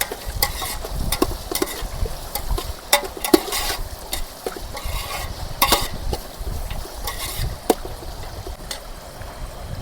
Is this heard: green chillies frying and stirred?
yes